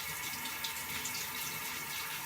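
Shower water runs steadily, a continuous close hiss of spray with no pauses or talk.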